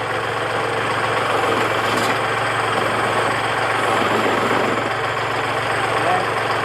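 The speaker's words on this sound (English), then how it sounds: "Keep the bucket where it is and just drive forward." A bucket truck's engine drones loud and steady, with a constant low rumble and no pauses, at a Christmas tree lot.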